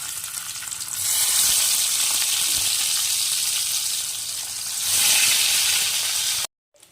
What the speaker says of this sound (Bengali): এখন একে একে মাছটা দিয়ে ভেজে নিই